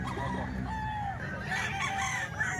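A gold broodstag rooster crows with a long, drawn-out call at moderate distance, joined by other roosters crowing farther off, over steady farmyard background noise.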